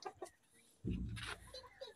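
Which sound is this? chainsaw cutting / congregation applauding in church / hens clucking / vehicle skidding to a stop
hens clucking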